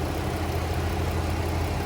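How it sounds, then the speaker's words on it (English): Steady idle of the 3.6 liter V6 in a 2014 Chrysler Town & Country van with 125k miles, a smooth continuous low hum heard close with no voices. "V6 engine."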